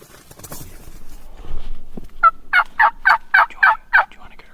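Wild turkeys in a flock on public land gobble six times in quick succession, loud rattling calls from fairly close by, following a stretch of faint rustling and low background noise.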